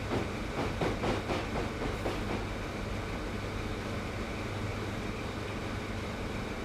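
A Valenta HST train from Train Simulator 2016 braking into Doncaster station, with a steady engine and rolling drone, rhythmic wheel clicks over rail joints early on, and a faint hiss, all at constant level.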